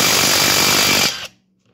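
An 18V cordless impact wrench hammers loudly and continuously as it loosens a car wheel bolt, then stops abruptly and leaves near silence, close to the listener and with no talk.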